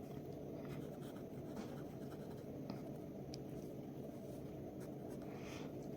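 Pen or chalk scratches out the given data for a Class 9 lines-and-angles geometry problem. The soft, continuous writing strokes are close but faint over a steady low background hum.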